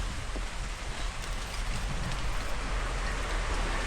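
Heavy rain pours down in a dense, steady roar of drops hitting surfaces, loud and close with no pauses.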